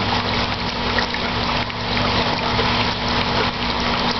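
Water drains from a pipe back into a fish farm tank with a continuous close gush and trickle over a steady pump hum, unbroken and without talk.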